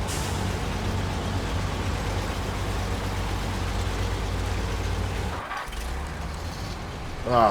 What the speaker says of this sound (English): This truck is just plowing through all the mud in high gear.